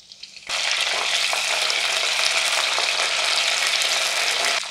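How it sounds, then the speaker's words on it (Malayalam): Green chillies and curry leaves fry in oil in a pan on low flame, a loud, dense sizzle that bursts in after a brief quiet start and holds steady and close, with no talking. "പച്ചമുളക് നന്നായിട്ടൊന്ന് മൂത്ത് വരട്ടെ"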